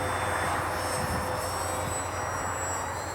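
A Parkzone VisionAire RC airplane with AS3X flies in high winds, its electric motor giving a steady, buzzing whine under rushing wind noise across the whole stretch, with no talk.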